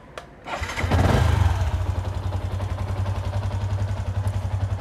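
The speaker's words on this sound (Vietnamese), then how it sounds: "bây giờ mình cho nổ máy 10 phút thôi" A Yamaha Exciter 150 motorcycle with an intermittent starting fault cranks and fires up. It revs briefly, then settles into a close, steady, throbbing idle that continues to the end.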